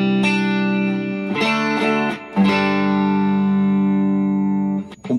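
A Stratocaster electric guitar plays through an effects pedal set to a nearly clean, crystal-clear tone, ringing out with sustained chords and a few re-struck notes, loud and alone.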